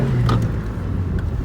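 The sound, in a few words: 2001 Saturn SC2 car engine revving after tune-up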